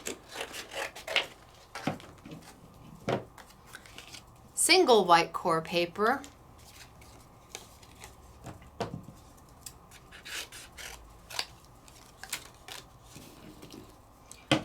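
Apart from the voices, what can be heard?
scissors snipping core paper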